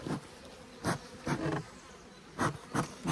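Honeybees from an aggressive spring split hum steadily while frames are moved from a National hive to a Langstroth hive, the drone broken by several sharp knocks and clicks of handled equipment.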